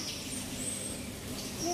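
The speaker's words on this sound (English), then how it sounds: "There's lots of little birds around here." Small birds chirp with a few thin, high calls over steady outdoor background noise at a zoo, faint and brief, with no one speaking.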